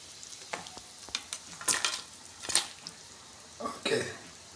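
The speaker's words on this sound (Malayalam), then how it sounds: "നമ്മുടെ മീൻ്റെ ഗ്രേവി നന്നായി തിളച്ചുകൊണ്ടിരിക്കുന്നുണ്ട്" A pan of fish curry gravy sizzles and bubbles at a boil as sardines are added, with a few louder stirring or splattering bursts rising over a quiet background hiss.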